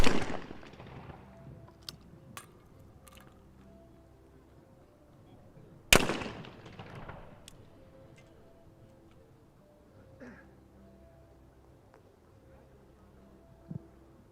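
Shotguns fire at clay targets during a men's trap final at a world cup event: two sharp, loud blasts about six seconds apart, each with a long fading echo across the open range, with faint ticks and quiet background between.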